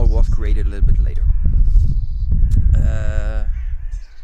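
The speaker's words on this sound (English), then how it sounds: "You can hear the birds, the wind, and everything around here." Crows caw repeatedly outdoors on a cold January day, with wind noise around them; someone talks over most of the calls.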